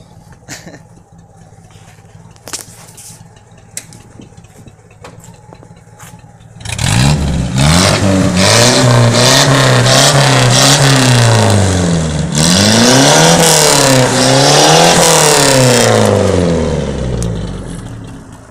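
A car engine running badly idles quietly with faint clicks, then revs up loudly and close, its pitch wavering and surging unevenly through repeated blips before easing off at the end.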